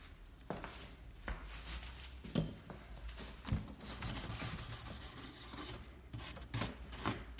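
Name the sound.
brush scrubbing stripper on an old wooden chair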